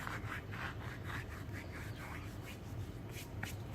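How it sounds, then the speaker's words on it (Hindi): Dry ajwain (carom seeds) crushed between the palms over a pakora batter, giving a close, continuous gritty rubbing and rustling in short repeated strokes over a low background hum, with no speech. "और अजवाइन जो है ये भी आधा टीस्पून, इसको हाथ पे मसल के डालेंगे"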